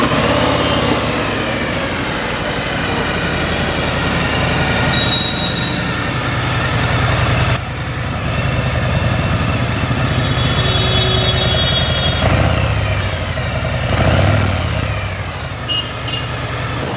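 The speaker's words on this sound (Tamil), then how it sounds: "இப்போ இந்த வெஹிக்கிளோட சைலன்சர் சவுண்டு உங்களுக்கு நான் காட்டுறேன்" A diesel Maruti Vitara Brezza runs steadily at idle nearby, its engine and exhaust giving a continuous low rumble for the whole stretch with slight swells and dips and no talk over it.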